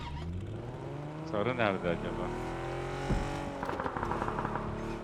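A car in PUBG drives with a steady engine drone that swells as it revs and accelerates, running under Turkish voices talking over it.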